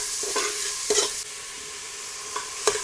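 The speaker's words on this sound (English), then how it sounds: "I'm going to saute this onion properly until it changes its color" Chopped onions sauté in a pan for lamb vindaloo, giving a soft steady sizzle with a few distinct scraping stirs and taps of the utensil against the pan.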